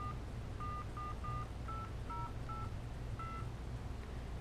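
Keypad DTMF tones dialing a number on an Iridium satellite phone, about nine short evenly spaced beeps over a steady low hum, close and fairly quiet.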